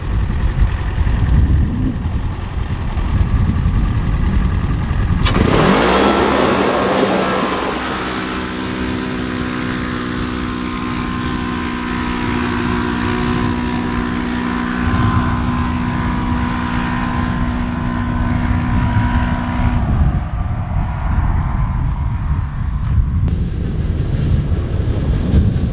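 Polaris Ranger XP 1000 UTV fitted with an HMF performance exhaust, its engine rising from a steady idle into a loud, sustained rev with climbing drone and harmonics, then easing back down; no talking.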